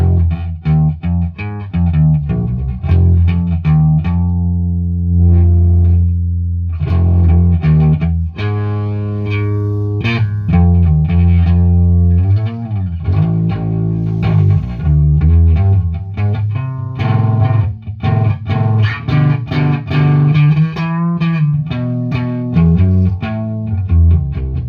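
A gritty, distorted guitar tone from a Behemoth pedal, loud and sustained through dense chords and single-note phrases, with no voice over it.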